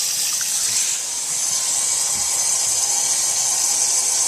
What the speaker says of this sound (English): The faucet does have a bit of a leak right there coming down the side.